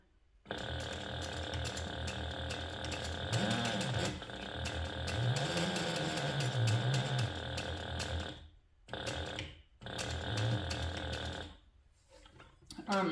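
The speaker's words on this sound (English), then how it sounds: "people say all the time that my sewing machine sounds sick or something" Sewing machine stitching a handbag at stitch length 4, running in long bursts with a mechanical clatter and steady whir, stopping briefly twice, with some low voice sounds under it.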